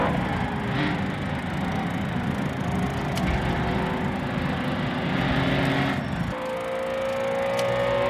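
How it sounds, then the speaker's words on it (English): A 1950s race car engine roars continuously as it drifts around the Goodwood circuit during a historic race, with a steady loud drone that shifts in pitch near the end. "See Tom D drifting his car around the track."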